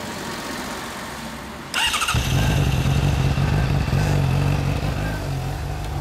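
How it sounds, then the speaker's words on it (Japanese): The fuel-injected engine of a 2014 Suzuki ST250E motorcycle, a model without a kick starter, fires up abruptly and settles into a loud, steady, close-up idle with a low, thumping rumble. "250E エンジン音 いいですね"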